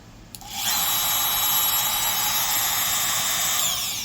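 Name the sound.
Makita trim router motor running at low speed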